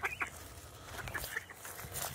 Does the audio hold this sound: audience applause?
no